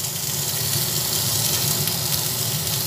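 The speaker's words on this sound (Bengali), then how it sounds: "পটলগুলো মোটামুটি লাল লাল করে ভেজে নিলাম।" Slices of pointed gourd (potol) fry in hot oil in a kadai until reddish, giving a steady, even sizzle that hisses on without a break and carries no voices.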